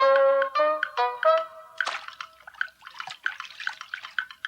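Water splashes and sloshes as a cartoon character washes up, a quick run of bright, irregular wet splatters that starts after a short melodic tonal phrase and carries on steadily to the end.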